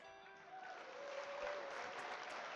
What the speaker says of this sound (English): We'll give claps for Miguel there.